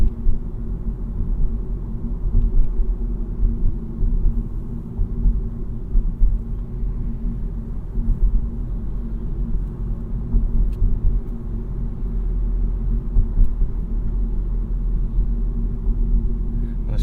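A 2022 Honda Civic cruises in slow highway traffic, a steady low road rumble and engine drone filling the cabin with little change throughout, no talk heard.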